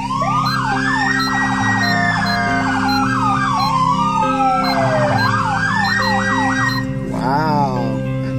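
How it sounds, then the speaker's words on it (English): Emergency sirens wail loudly and close, cycling through rising and falling tones and fast yelps over a steady engine drone. "You ready for your sirens?"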